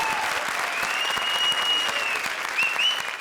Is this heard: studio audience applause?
yes